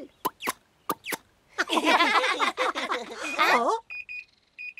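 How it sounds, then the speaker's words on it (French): A person coughs and talks in an animated cartoon, then an oven timer sounds a short series of high electronic beeps at the end. "Oh, c'est la sonnerie du four."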